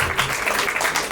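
A crowd at a Marathi talent show claps under a clipped stretch of mixed sound with a low hum, while a voice may be faintly present.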